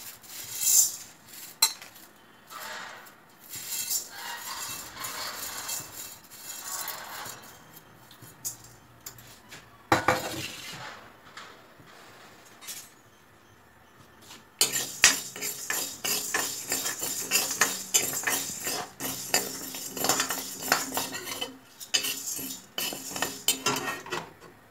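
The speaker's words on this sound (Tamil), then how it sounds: "இங்கே பருப்பு வறுக்கணும்" Toor dal being dry-roasted and stirred in a pan for chutney, with repeated metallic scraping and clinking of a spoon against the pan, steady and close, pausing briefly before resuming more busily.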